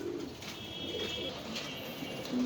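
Danish pigeons coo softly in a handful of low, rounded calls spaced across a quiet background, fairly faint with no talking.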